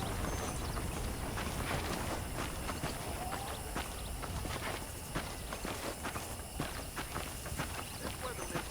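Horse hooves clip-clop steadily in the Western video game Red Dead Redemption, a continuous run of hoofbeats over a dense ambient background, with no talk.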